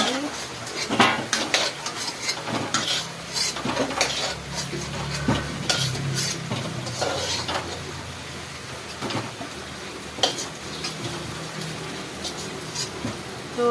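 Potatoes fry and get stirred in a pan in a home kitchen, with steady metallic scraping and clinking of a spatula against the pan over a low background sizzle, close and fairly constant.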